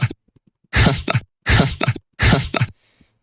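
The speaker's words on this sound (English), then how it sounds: "we just have some, like, laugh sound effects." Three bursts of resampled laugh sound effects for a future bass track come in quick succession, each a short loud chopped cackle, followed by a faint tail.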